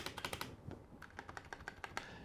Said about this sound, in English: the enter key, super quiet.